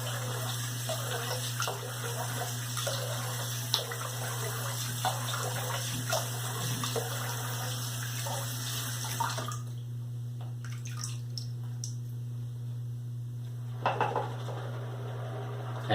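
Water gushes steadily from a tap with a constant low hum beneath, then cuts off, leaving a few faint drips and clinks.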